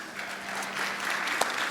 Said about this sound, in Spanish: Vamos a aplaudir al Señor entonces, vamos. Eso. El aplauso es para Él.